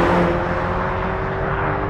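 A sports car engine, from an Alpine A110 or Toyota GR Supra road test, holds a steady droning exhaust note under acceleration, loud and close for about two seconds with no talk.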